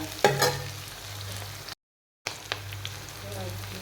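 Soft sizzling of spice tempering frying in hot oil for kadhi, with a brief voice and a clink early on, then a short gap before the sizzle resumes.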